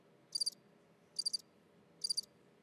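A cricket chirps in three evenly spaced short trills, each a quick cluster of high pulses, clear and isolated against faint quiet background.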